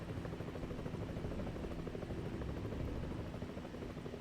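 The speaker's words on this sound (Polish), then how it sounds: "Znowu ten helikopter." Helicopter flying close by, its rotor chopping as a continuous, steady drone with no talking.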